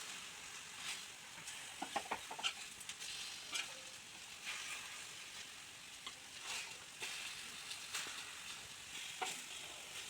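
Sweet ripe plantain slices frying in butter in a pan, a steady low sizzle with a few light scrapes and taps as the pieces are turned over, fairly quiet and close with no talking.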